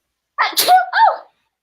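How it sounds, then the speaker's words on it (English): A single short, high-pitched sneeze from a woman bursts out close and loud, then silence. "oh, I'm gonna sneeze."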